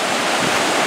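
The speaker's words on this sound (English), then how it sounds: "he's braving the waves" Ocean surf rushes steadily on a beach, a loud, continuous wash of breaking water close by with no voices.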